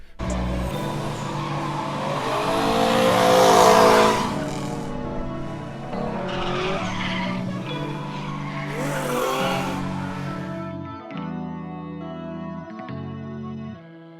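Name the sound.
drift car skidding with tire squeal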